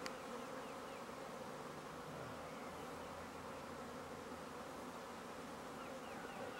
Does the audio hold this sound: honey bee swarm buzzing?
yes